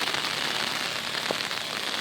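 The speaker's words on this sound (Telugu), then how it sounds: "కాకపోతే వర్షం బాగా కొడుతుంది" Heavy rain falling during a walk under an umbrella, a dense, even patter of drops hitting the surface, soft and continuous throughout with no voices.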